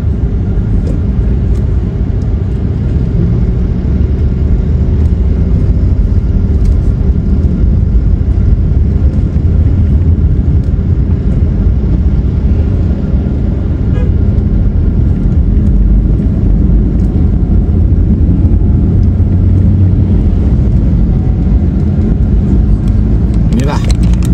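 Steady, loud road traffic rumbles in a market-area traffic jam on the road from Makassar to Takalar, heard from inside a car, with a continuous low engine and road drone throughout.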